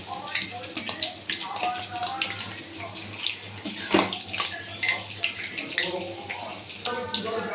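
Palm fritters (taler bora) frying in hot oil give a steady crackling sizzle, near and moderately loud, with small pops scattered throughout and a brief louder burst partway through; a voice talks intermittently over the frying.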